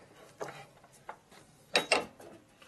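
Metal spanner clicks and ratchets while tightening a part on a 1965 Harley-Davidson panhead 74ci engine during a lower-end rebuild, a few sharp mechanical snaps with a louder double clack near the end, close and alone.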